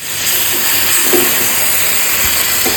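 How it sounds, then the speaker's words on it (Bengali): Chicken pieces fry over high heat in a pan, giving a loud, steady sizzling hiss close by, broken by faint scraping as the pieces are stirred. "চিকেনগুলো সমস্ত দিয়ে ভালো করে একটু নেড়ে কষাবো"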